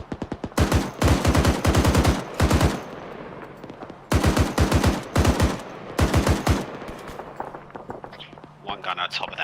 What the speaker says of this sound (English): Jazz, you're clear to shoot shoot whatever the fuck you like